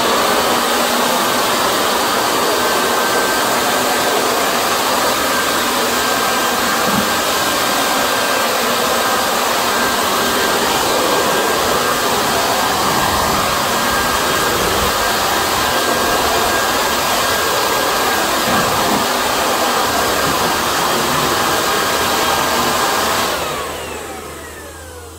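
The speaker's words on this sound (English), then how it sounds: "we're just going to blow the shop out" An air blower clearing sanding dust out of a workshop during houseboat hatch repairs, a loud continuous rushing roar held steady for over twenty seconds before tapering off at the end.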